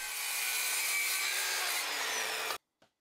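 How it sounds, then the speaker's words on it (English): A saw cuts through a plywood shelf divider at a 30 degree angle, a loud steady rasping stroke that stops abruptly, with a faint knock after it. "so I can make a cut and then I just keep cutting away, sneaking up on it until I get the perfect fit"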